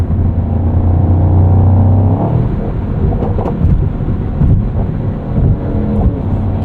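A 2024 Mercedes-AMG GT63 coupe's 4-liter biturbo engine pulls hard from inside the cabin, a steady loud drone shifting pitch as it accelerates, with road and wind rumble underneath.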